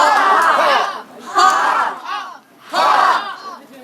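An improv cabaret audience shouts together in unison, three loud collective bursts of many voices with short pauses between, the crowd chanting in rhythm.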